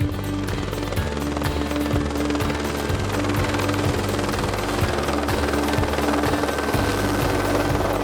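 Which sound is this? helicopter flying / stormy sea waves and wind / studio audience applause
helicopter flying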